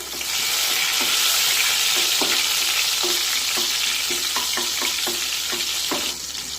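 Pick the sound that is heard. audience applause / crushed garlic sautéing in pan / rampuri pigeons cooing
crushed garlic sautéing in pan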